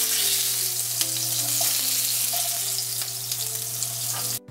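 Potatoes sizzle steadily in hot oil in a pan, a loud, close, continuous frying hiss with a few faint clinks; no speech.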